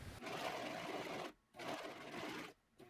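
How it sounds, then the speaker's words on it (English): A serger overlocking flannel pocket pieces for a pinafore dress runs in two steady whirring bursts with brief pauses between, close and fairly loud, no talking. "I'm just going to serge all 4 of these pocket pieces"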